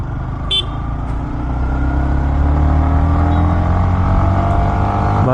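A Yamaha XSR 155 motorcycle engine revving as it accelerates on a city street, a steady low rumble that builds in loudness and pitch, close up, with a brief sharp tone near the start.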